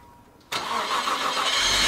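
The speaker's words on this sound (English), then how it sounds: "The final step in this cleaning process was to turn the engine over and run it till operating temperature" A Nissan Skyline R34's engine cranks and fires abruptly, then settles into a steady, loud idle close by in an enclosed detailing space, with no talking.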